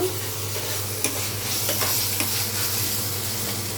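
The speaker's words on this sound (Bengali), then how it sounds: "দিয়ে দিচ্ছি মশলা বাটা, জিরা, আদা আর হচ্ছে রসুন বাটা। আগে তো তেলে রেখে একটু ভেজে নেব।" Cumin, ginger and garlic paste fries in hot oil in a pan, giving a steady close sizzle with occasional stirring scrapes throughout, no voices.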